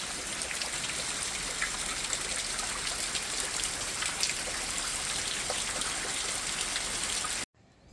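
Rainwater runs across a yard as a small stream, a steady close wash of trickling water and pattering drops that holds unbroken for about seven seconds before cutting off abruptly.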